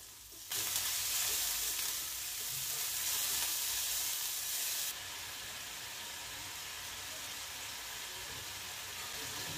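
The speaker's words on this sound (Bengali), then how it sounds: "আদা রসুন জিরে বাটা দিয়ে দিলাম।" Ginger, garlic and cumin paste dropped into a pan of frying onions, producing a loud, steady sizzling hiss that jumps up sharply at the start and eases to a softer, continuous fry partway through, with no voices.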